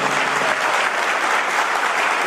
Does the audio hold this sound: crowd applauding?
yes